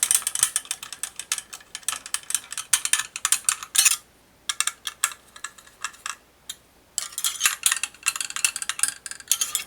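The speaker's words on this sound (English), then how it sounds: "now I can use the long magnetic screwdriver that BrickWired provides" Long magnetic screwdriver driving screws on a Be Quiet Dark Rock 5 CPU cooler, making rapid ratcheting clicks in dense bursts with a short pause in the middle, loud and close with no other sound.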